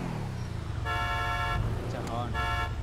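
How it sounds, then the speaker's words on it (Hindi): A Lamborghini Aventador honks in GTA 5, sounding two bright, buzzy horn blasts about a second apart over a steady engine rumble, with voices talking in the background. "अच्छा, हॉर्न"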